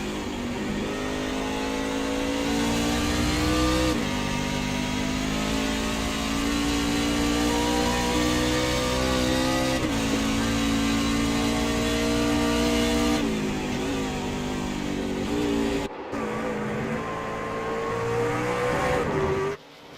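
Race trucks roaring at full throttle around Watkins Glen during a stage finish, a continuous loud engine drone with rising and falling pitch as trucks accelerate and shift, dense overlapping engines, no talk.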